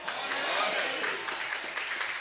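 A Brazilian church congregation applauds during a worship service, a dense, steady patter of clapping with voices mixed in beneath it.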